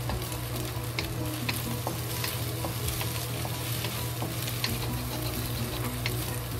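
Egg stir-frying in a pan, a loud steady sizzle with rhythmic scraping and tapping of a spatula, close by and uninterrupted, under a low constant hum.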